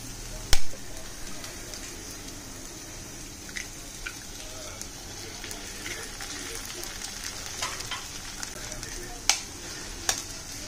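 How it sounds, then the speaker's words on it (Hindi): Eggs cracked into a hot pan for egg bhurji sizzle steadily, with soft stirring scrapes and a few sharp clinks over the continuous frying hiss. "आता मी अंडे फोडून घालणार आहे ह्याच्यात।"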